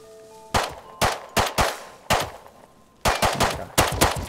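Loud double-barrel shotgun blasts from the survival video game Rust, roughly ten sharp booming shots fired in uneven bursts, some close together in quick pairs.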